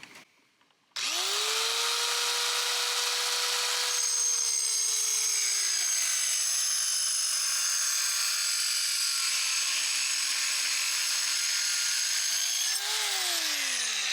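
A cheap mini circular saw starts after a moment of near silence and spins up to a loud, high whine. It cuts for over ten seconds, its pitch sagging under load as it bogs down, then rises again near the end.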